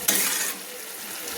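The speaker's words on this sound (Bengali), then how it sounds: "আলুগুলো মশলার সঙ্গে সুন্দর করে কষিয়ে নিচ্ছি" Potatoes stir-fried with spices in a pan give a close, steady sizzle, with a brief scrape of a utensil at the start and no talking.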